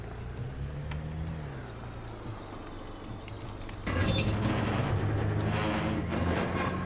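A car scrapes along an edge in Unturned, a continuous grinding rumble under engine drone that turns louder and harsher midway and stays up close to the end.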